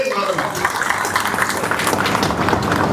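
A large crowd applauds during a political speech at a Madhya Pradesh rally where a politician speaks, with dense, steady clapping and crowd noise lasting throughout and voices mixed in.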